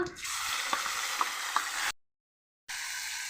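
Bay leaves and spices fry in hot oil in a wok, a loud, steady sizzling hiss with a few soft taps of a utensil, then a short silent gap before the sizzle returns.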